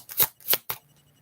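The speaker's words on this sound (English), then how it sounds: "Let's shuffle this out." A deck of cards being shuffled, three quick crisp riffling bursts close by in a quiet room, followed by near silence.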